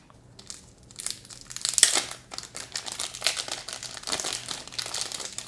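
Thin plastic packaging from a Thunderclap v3 M speed cube box crinkles and crunches as it is handled up close, in a steady run of rustling bursts with no talk.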